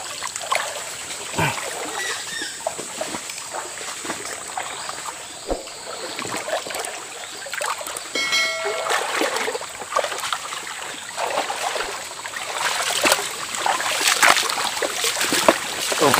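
Someone wades across a small creek outdoors, with continuous water sloshing and splashing around the legs and scattered sharper splashes over a steady rushing background.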